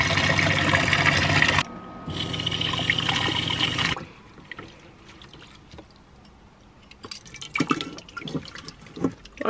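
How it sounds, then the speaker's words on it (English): Running cold tap water splashes into a small van sink in two bursts, then quieter clinks and clatter of dishes being washed close by. "Whilst I'm just finishing this washing up"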